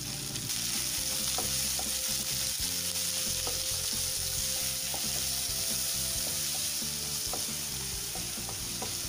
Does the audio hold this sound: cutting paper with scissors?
no